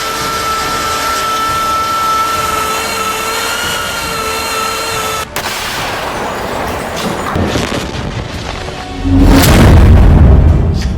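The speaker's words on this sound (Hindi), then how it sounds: "हानिया को सुरंग युद्ध में महारत हासिल है और इस वक्त हमास के लड़ाके गाजा से हजारों रॉकेट सुरंग के रास्ते से इजराइल पर दाग रहे हैं।" In news footage of Gaza, a steady droning hum is cut by a sharp crack. A heavy, loud, low rumble of rocket fire and explosions then swells near the end.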